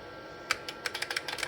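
Keys clack on an IBM 5-pin keyboard hooked to an IBM 5160 through a converter: a burst of crisp, close keystrokes that speeds into quick, uneven typing.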